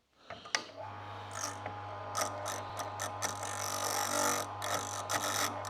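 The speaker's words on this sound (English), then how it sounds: "Now I need to gap all the rings." Hand-crank ring grinder, American made, filing the gaps of piston rings for a Nissan RB32 engine, heard close as a quick run of ratcheting clicks and rough grinding scrapes over a low steady hum, fairly quiet.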